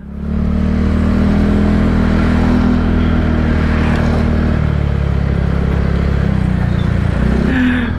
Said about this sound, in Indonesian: asik juga ya pakai motor knalpot ini